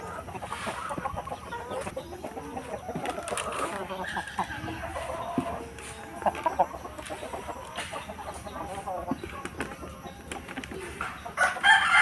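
Free-range breeder chickens cluck and murmur continuously around a coop, a busy flock heard close with scattered louder calls and a faint voice in the background.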